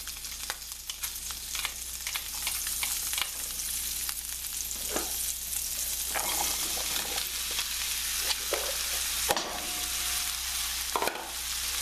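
Mushrooms sautéing in butter in a pan for loin veal chops Marsala, a loud continuous sizzle with occasional stirring scrapes and clatters, heard close and on its own.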